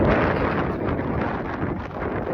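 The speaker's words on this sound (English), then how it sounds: "So it's getting windy." Strong wind buffets the microphone in a continuous rough roar with gusty fluctuations throughout.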